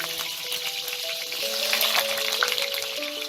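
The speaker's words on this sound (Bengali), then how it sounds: "এই আলুটাকে লাল করে ভেজে নেব।" Diced potatoes fry in hot mustard oil with a soft, steady crackling sizzle that runs without pause, and nobody speaks.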